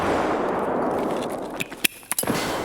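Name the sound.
grenade explosion in Escape from Tarkov video game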